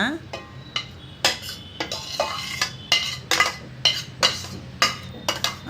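Cooked rice being tossed with seasoning for Karnataka-style chitranna in a metal pot, a spoon scraping and knocking against the sides in a steady run of about a dozen close, sharp strokes, with no talking.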